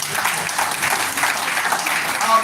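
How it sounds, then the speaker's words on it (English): Audience applause for Superlife at a plant-based stem cell health summit in Nigeria, a steady continuous clapping from the crowd holding an even level for a couple of seconds with no voices over it. "A round of applause for Superlife."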